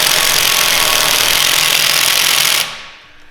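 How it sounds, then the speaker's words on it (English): An impact wrench unbolts parts on a BMW E46 car being built for off-road use. It hammers with a loud, dense, continuous rattle for under three seconds and then cuts off, leaving quiet background noise. "You lose them and then you use the impact to unbolt them"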